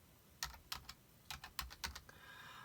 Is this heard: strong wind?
no